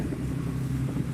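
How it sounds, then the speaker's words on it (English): Distant boat traffic on the Humber estuary near Spurn Point forms a steady low engine drone, with wind noise buffeting the microphone and no voices. "It does sound busy out in the Humber though, lots of traffic moving."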